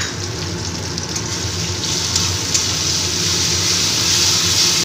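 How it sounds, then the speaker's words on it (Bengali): Poppy seed paste with green chili cooks in a pan as it is stirred, producing a loud, dense and continuous sizzling hiss that stays even from start to finish. "পোস্ত বাটাটা দিয়ে আবার একটু নেড়ে নিই।"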